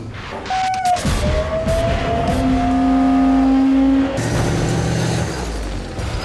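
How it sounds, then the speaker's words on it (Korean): A military tank sets off toward a driving test track, its engine revving up close and loud with a rising mechanical whine that peaks and then settles into a heavier rumble. "전차가 주행 시험장을 향해 힘차게 출발한다."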